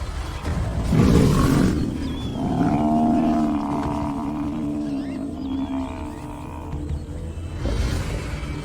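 Lions attacking a buffalo on the African savannah make deep, growling roars and snarls that swell and fade over several seconds, loud and close amid scuffling noise.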